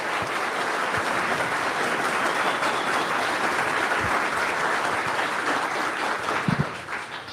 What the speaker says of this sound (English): Big round of applause for Dinesh real quick.